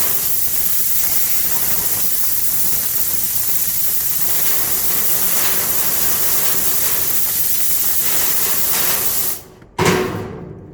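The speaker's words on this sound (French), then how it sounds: "on a le fouet avec notre compresseur qu'on disait qui développait du 125 PSI" An air whip hose powered by a 125 PSI compressor, blasting a loud, continuous rushing hiss of air that cuts off briefly near the end and then resumes.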